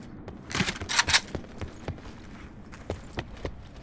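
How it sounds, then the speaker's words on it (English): A flashbang grenade bursts in a first-person shooter: a cluster of loud, sharp cracks followed by scattered lighter pops and footsteps. "flashbang just went off"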